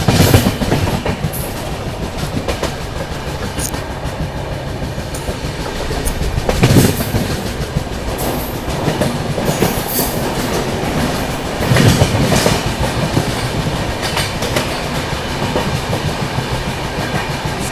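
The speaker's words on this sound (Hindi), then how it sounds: "चलिए दोस्तों, ट्रेन अपनी खांडवा जंक्शन स्किप करने जा रही है।" The 22221 CR Rajdhani Express runs through Khandwa Junction without stopping, with loud continuous rumble and rhythmic clickety-clack of wheels over rail joints, punctuated by a few heavier clunks.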